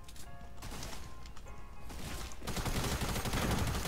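Fortnite shotgun blasts crack in a rapid cluster of sharp bursts, then a dense, louder barrage of gunfire and impacts fills the last stretch.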